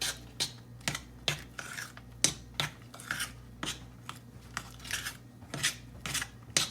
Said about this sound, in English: So I'm going to just stir those in real quick.